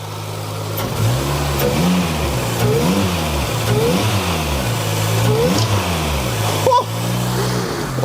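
A supercharged Toyota Corolla XRS engine running close and loud, holding a steady idle hum with several rising and falling revs and a brief knock near the end.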